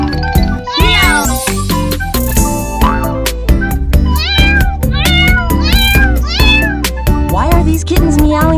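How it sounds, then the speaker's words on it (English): Cartoon kittens meow repeatedly in quick, overlapping high-pitched cries over a bright animated music bed with light jingling, loud and busy throughout the scene. "Why are these kittens meowing so much?"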